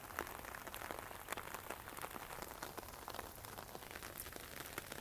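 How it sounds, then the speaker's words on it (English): Steady rain patters on surfaces near a swale and pond, with dense scattered drips and taps continuing evenly and fairly quiet, with no voices. "Just wanted you to see how the swale works when it's raining."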